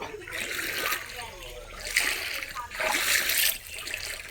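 Splashing water in bursts as someone steps through a shallow stream in Vagamon, Kerala, with swishing between strides; a voice talks underneath.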